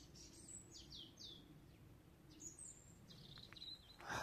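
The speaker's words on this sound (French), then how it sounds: "Écoutez, les petits oiseaux qui chantent." Small birds singing outdoors on a sunny day near flooded land, a series of bright chirps and short descending trills from a few birds at middling distance over a soft background hum.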